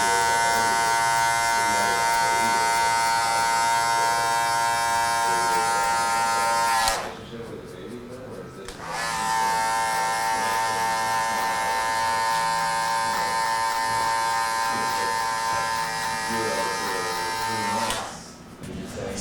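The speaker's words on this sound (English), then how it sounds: "And then we can close the clipper all the way, come back," Electric hair clippers trimming a high fade, a close, loud steady buzz that runs for several seconds, cuts out briefly, then resumes and drops again near the end.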